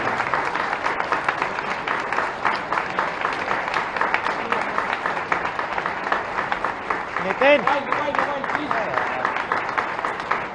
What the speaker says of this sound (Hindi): जोरदार तालियां मिले